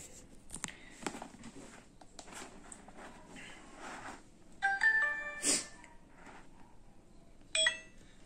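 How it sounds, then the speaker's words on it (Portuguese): A DJI Osmo Action camera sounds short electronic warning beeps about its memory card, a few clear tones around the middle of the clip and again near the end, amid faint handling clicks. "Esse sinalzinho aí porque ele fica reclamando com meu cartão"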